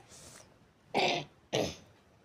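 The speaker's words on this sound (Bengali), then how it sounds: "আজকে আমার তো কাশিটা ধরেছে" Two sharp, loud coughs about half a second apart, close and alone, with a faint breathy sound just before and no talking.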